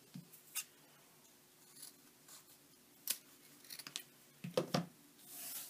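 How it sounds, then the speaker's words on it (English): Scissors snip at a metal zipper stop at the end of a zipper, giving a few sharp clicks and crunches. The cuts come close, apart from each other, over quiet room tone, with no speech. "Then you're going to cut off the zipper stop on the other end of the zipper."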